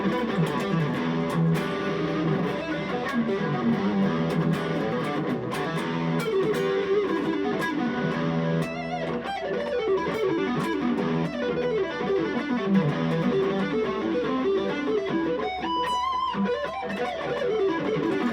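Electric guitar played through a tube amp with a crunchy, distorted tone, chords and riffs ringing loud and continuous throughout with no one talking.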